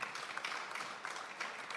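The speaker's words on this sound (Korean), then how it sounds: "박수 한번 부탁드리겠습니다." An audience applauds at the 2023 World Ocean Forum epilogue session, a steady, fairly faint wash of many hands clapping that fills the whole stretch with no voice over it.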